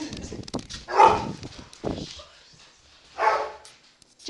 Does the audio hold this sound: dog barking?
yes